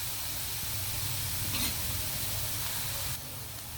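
Chicken frying in a pan gives a steady, quiet hiss that stays even throughout, with a brief faint clatter near the middle and no talking.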